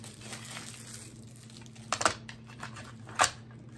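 Plastic packaging on a Dollar Tree ornament gets pulled open by hand, a quiet crinkling broken by two sharp snaps or clicks close to the microphone, with no talking.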